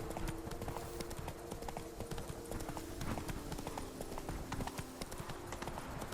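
A horse in The Witcher 3 trots through a town, its hooves clip-clopping in a steady rapid rhythm over continuous game ambience and music.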